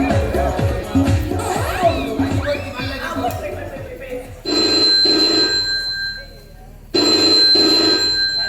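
A telephone rings in two loud, close bursts with a pause between them, after several seconds of people talking during a Tulu stage drama.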